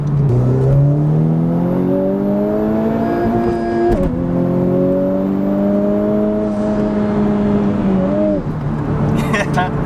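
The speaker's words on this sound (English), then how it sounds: "See, he's experiencing the auto rev." Honda Integra Type R DC5R, right-hand drive, with its engine revving steadily at high rpm inside the car, a brief dip and rise mid-way, loud and continuous.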